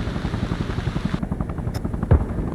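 Video game helicopter with a rhythmic rotor thump chopping steadily, loud and close, a short sharp impact near the end.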